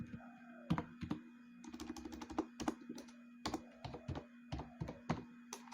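Program code being typed on a computer keyboard: irregular bursts of crisp key clicks with short pauses between runs, close and fairly quiet over a steady electrical hum, with no talking.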